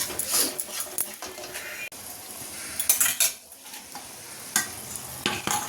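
Chicken curry masala being sautéed in a pan, with a spoon scraping and clinking against the metal over a soft sizzle in irregular bursts, close and fairly quiet, no voices.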